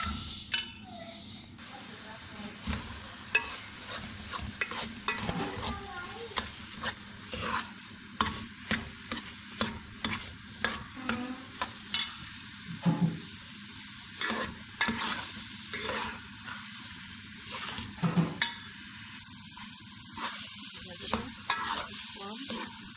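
Grated carrots fry and sizzle in ghee for carrot halwa while a spoon repeatedly stirs and scrapes the pan, giving steady frying hiss with rhythmic stirring clinks close by; a voice talks faintly at times.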